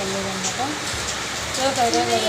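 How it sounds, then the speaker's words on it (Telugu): Steady, dense rain hisses continuously throughout, with a voice speaking over the downpour. "వర్షం చూడండి వర్షం ఎలా పడుతుంది"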